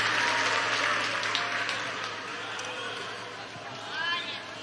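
A church congregation fills the room with sustained applause and cheering, a loud, dense roar of clapping that eases slightly before swelling again, with voices mixed in.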